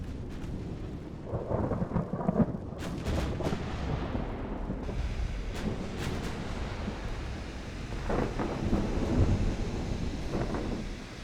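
Stormy naval battle ambience from the warship game Ultimate Admiral Dreadnoughts: a steady roar of rain, wind and sea waves with deep rumbling booms and sharp cracks breaking through, loud and continuous with no speech.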